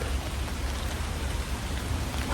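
Steady rain falls in the Smoky Mountains of Tennessee, a dense, even hiss of drops on surrounding surfaces that stays constant throughout with no voices.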